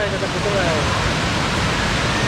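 Water crashes down a twin waterfall in a Sukabumi valley, making a dense, continuous rushing roar close at hand, with a brief faint voice near the start.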